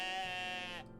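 Goats in a video game let out a single drawn-out, wavering bleat, loud and close for nearly a second before cutting off into quiet.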